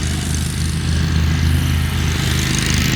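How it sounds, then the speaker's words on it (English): A lawnmower engine drones close by outdoors, loud and continuous with a steady low throb and no talking. "now I've got a lawnmower following me"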